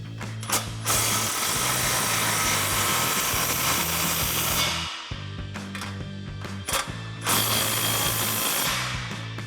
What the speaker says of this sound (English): with our 15 mil socket, we're going to tighten that down